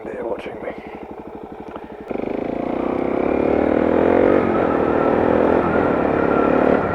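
A Suzuki DRZ 400SM motorcycle idles with a pulsing, loping rhythm, then the engine note jumps and holds a steady, loud drone as the bike rides off nearby, rising slightly in pitch.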